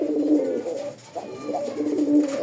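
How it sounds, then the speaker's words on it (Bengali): A pair of old-breed Golla pigeons coo in repeated low, throaty rolls, close and steady with a brief pause midway, and no talking. "দেখার মতো একজোড়া পুরান জাতের গোল্লা কবুতর"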